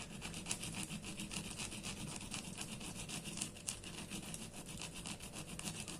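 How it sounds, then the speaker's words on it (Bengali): An object being scrubbed hard to clean it, a faint, continuous rapid rasping with quick back-and-forth strokes and a few sharper scrapes, heard alone without talk. "খুব ভালো করে ঘষতে হবে, তবেই বেরোবে।"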